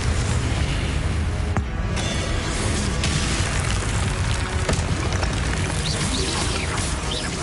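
Confringo blasting spell explosions in Hogwarts Legacy, loud booming blasts and crashing impacts over a dense, continuous game-battle rumble, with sharp hits near the start and middle.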